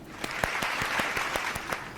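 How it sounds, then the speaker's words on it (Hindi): Audience applause in a studio talk show, steady dense clapping with distinct sharp claps standing out, continuous and moderately loud for the whole stretch. "तालियां"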